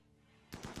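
Three quick bursts of gunfire from the video game RimWorld, loud and sharp, coming in a rapid rhythm after a second of quiet background hum.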